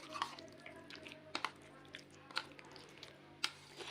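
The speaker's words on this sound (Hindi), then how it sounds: "चिकन को मसाले में अच्छी तरह से मिक्स करेंगे हम।" Chicken pieces are worked by hand into a pakora spice masala, giving soft wet squelches and sticky slaps at a few irregular moments over a quiet background.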